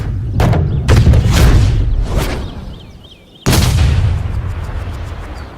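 In the video game EA Sports Rory McIlroy PGA Tour, two sharp, booming golf club strikes on a ball, each followed by a whooshing, crowd-like wash; loud and punchy, with no speech.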